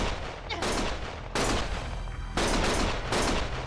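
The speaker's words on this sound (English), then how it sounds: "Stop shooting!" Rapid bursts of gunfire fill a video game scene, loud and close, in dense volleys that cut off and restart several times.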